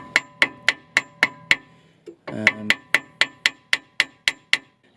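A hammer taps a rusty ball joint on a Gen.1 Mini driveshaft to separate it, giving sharp metallic knocks in a steady rhythm, about a dozen close strikes with a brief pause partway through.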